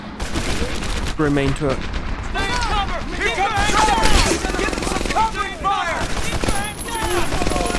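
MP40 and Thompson submachine guns fire in bursts in a World War II shooter game, their rattle blending with game music and effects while a person talks over it.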